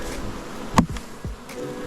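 Honeybees from a recovered swarm hum steadily near a tree branch, with individual bees zipping past close by and one brief louder buzz passing the ear, no voices.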